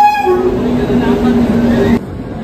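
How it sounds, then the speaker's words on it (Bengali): A train running on its approach to a station, with a steady rolling rumble and sustained horn-like tones over it. The sound cuts off abruptly near the end. "ট্রেন প্রায় চলে এসছে"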